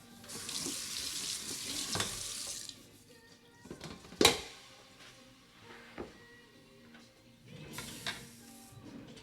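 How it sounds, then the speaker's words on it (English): Tap water runs into a kitchen sink while something is rinsed during meal prep, a soft close hiss that starts and stops, mixed with small knocks and one sharp clatter. "It just needs to be rinsed off."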